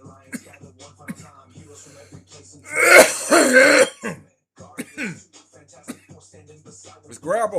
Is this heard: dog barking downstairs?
no